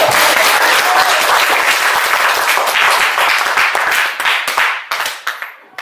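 A classroom of students applauds a student group, dense loud clapping that thins out and tapers into scattered final claps near the end.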